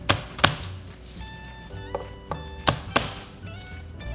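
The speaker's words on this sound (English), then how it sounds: "And then I'll peel the skin off and then mince it up really small." A knife chops garlic on a cutting board in a home kitchen, with sharp irregular knocks, a few spaced apart and some in quick pairs, close and clear with no talking.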